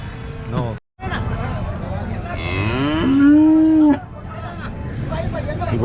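At a busy cattle market a cow lets out one long, loud, close moo near the middle, with people chattering in the background and the murmur of the crowd continuing throughout.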